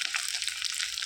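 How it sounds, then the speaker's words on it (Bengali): Dried fish fries in hot oil with garlic, making a steady, close, crackling sizzle with no voices. "শুকনো মাছটা একটু ভাজা হয়ে গেল"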